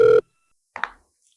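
A telephone rings close by, a single short electronic tone that cuts off after a fraction of a second, followed by quiet and a brief murmur of voice.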